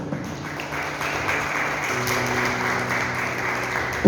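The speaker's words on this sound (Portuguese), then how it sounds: "Os que não levantaram a mão, dá uma salva de palmas para eles aí." Church congregation applauds in a worship hall, a steady wash of clapping from many hands lasting a few seconds, with a faint voice and hum underneath.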